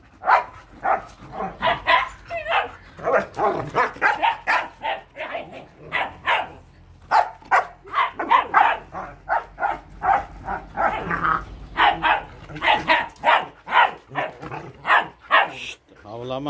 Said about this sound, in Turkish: Şşt, havlama.